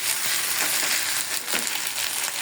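Ginger and garlic paste hitting hot oil, a steady broad sizzle with a brief louder burst near the middle, close and continuous with no talking.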